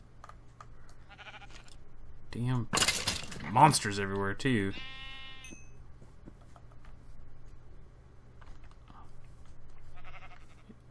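Sheep in a video game bleat several times in a cluster of loud calls near the middle, over a steady background hum with faint clicks, while someone talks.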